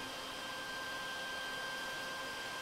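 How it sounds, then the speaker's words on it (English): A shop vacuum runs steadily, sucking up metal shavings left from drilling holes in a button plate, a constant close-up whooshing hiss with no pauses or voices. "So we'll just hit the vacuum and"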